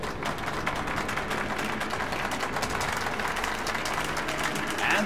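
Crowd applause at a theater exhibition in the video game Metro: Last Light: many hands clap in a dense, continuous roar that holds at a steady level throughout.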